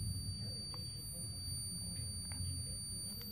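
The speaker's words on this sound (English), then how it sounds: "You guys can hear that beeper." A piezo beeper on a Simplex 4305-B fire alarm annunciator panel sounds as a thin, continuous high-pitched tone. It stays quiet and steady throughout over a low background hum.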